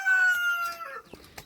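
A rooster crows once in a pen of chickens, a loud drawn-out call up close lasting about a second, followed by a few faint clucks and soft scratching.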